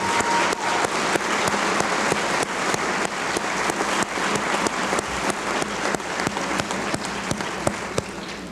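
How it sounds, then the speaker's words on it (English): An audience claps steadily for students at a National Honor Society induction, many sharp individual claps standing out in a continuous, moderately loud round of applause that runs evenly throughout. "let's give a round of applause to the students that we're going to honor tonight"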